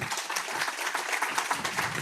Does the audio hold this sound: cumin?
no